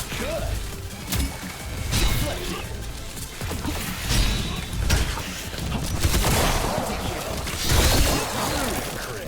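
Gunfire and impacts from the game Wrack Remake crack out in irregular loud bursts and smashing hits, dense and close, with a voice talking underneath.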